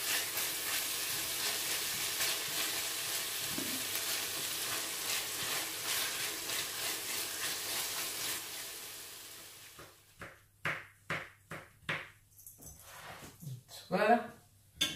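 Cuttlefish pieces browning in a frying pan for a cuttlefish and pea stew give a dense, steady sizzle for several seconds. The hiss then drops away, and a voice speaks over soft stirring noises.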